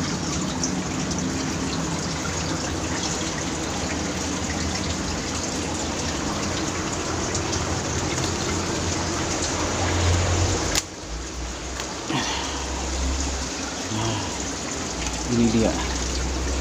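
Water splashes and trickles steadily as a hoya houseplant is watered outdoors, then breaks off into short splashes while someone talks over the sound throughout.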